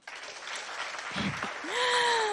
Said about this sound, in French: On va les applaudir très fort d'abord.